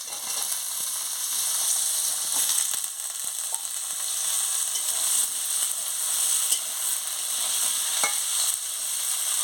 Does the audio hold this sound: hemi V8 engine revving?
no